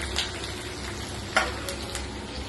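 Curry leaves and spices crackle and sizzle in a hot pan, a steady close hiss with a few sharp pops and a stirring scrape.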